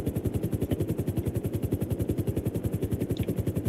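Police helicopter in a video game, its rotor chopping in a fast, steady, even rhythm, loud and close, running continuously without any talk over it.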